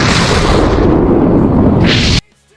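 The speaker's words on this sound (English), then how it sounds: "She does, and the explosion obliterates the buggy pirates' front line." A cartoon cannon blast from a pirate's circus cannon roars as one loud, sustained explosion lasting about two seconds, then cuts off abruptly into near silence.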